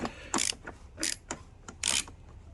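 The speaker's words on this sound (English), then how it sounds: "I believe we have a 3/8 wrench, ratchet, whichever you want to call it" A 3/8-inch ratchet wrench turns a bolt on the carburetor of a 1994 Polaris 300 2x4 ATV, giving several bursts of close, loud ratcheting clicks in an uneven rhythm.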